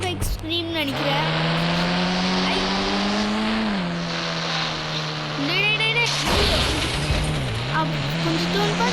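A car driven in the mobile game Indian Bikes Driving 3D, its synthetic engine tone rising and falling through gear shifts with a tire squeal, continuous and loud, with a person talking over it.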